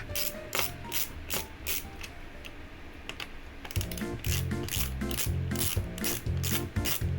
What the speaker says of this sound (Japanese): まずは純正クーラーを止めるやつが邪魔なので外します。 ネジを外しているのだ。